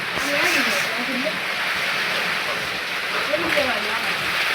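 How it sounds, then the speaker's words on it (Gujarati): Heavy rain pours down in a steady, even hiss, while people talk faintly underneath it. "ચાલુ વરસાદમાં બહુ મજા આવે."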